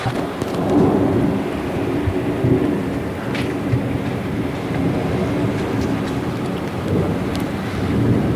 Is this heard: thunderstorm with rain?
yes